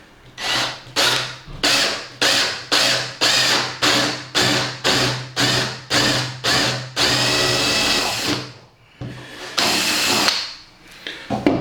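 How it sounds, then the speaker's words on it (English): A power drill with a 15mm bit whirs in about a dozen short, evenly spaced bursts, then runs in a longer continuous stretch, loud and close. "let's get this drilled"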